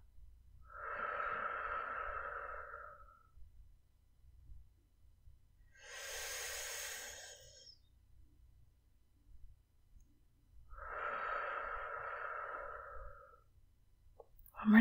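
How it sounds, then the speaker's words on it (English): A person breathes out slowly and softly in a quiet, calm setting: three long, close exhales, evenly spaced with silence between them. "Breathe out."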